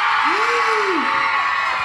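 A loud, dense crowd roar at a beauty pageant expo fills the clip, with one rising-and-falling whoop standing out above the cheering noise.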